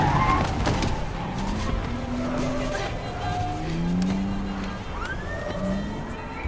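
A car in a film scene drives along, its engine and road noise steady and fairly close, with a brief tire squeal and faint birdsong in the background.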